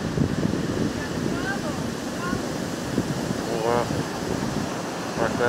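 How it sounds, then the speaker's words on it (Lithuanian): Rough sea surging against a rocky shore, a steady heavy roar of waves and spray with wind buffeting the microphone, and a voice speaking briefly over the constant rush. "O jūra tiesiog šėlsta."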